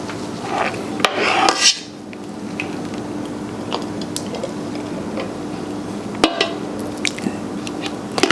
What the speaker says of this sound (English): I don't like that scraping sound when it hits the bottom of the pot.